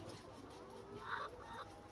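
Layer hens on a poultry farm cluck softly a couple of times at mid distance, faint against a low background of farm noise with no talking.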